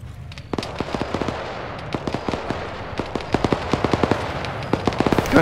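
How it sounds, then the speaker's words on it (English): Gunfire during an Army task force integrated training exercise: a rapid, irregular string of sharp cracks and pops over a steady outdoor background, some shots clustered in quick bursts and all at moderate distance. "Gunshot on our rear."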